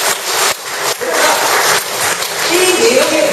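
Large audience applauding during a speech, a loud dense wash of clapping and crowd noise that stays continuous throughout.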